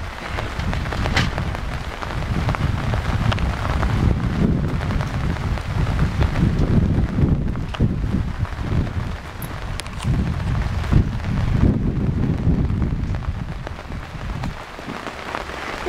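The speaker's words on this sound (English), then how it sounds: "It's a rainy day." Steady, dense rain falls and patters on surfaces throughout, a continuous close hiss with occasional louder drops and no voices.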